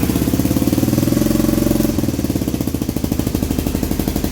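Small ATV engine running steadily after a carburetor clean and new jets, a loud close rapid putter that shifts pitch slightly midway while it keeps idling evenly.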